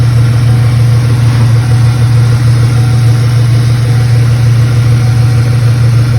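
A car engine idles steadily and loudly after its revived battery was put back in, with a constant low hum and no talk.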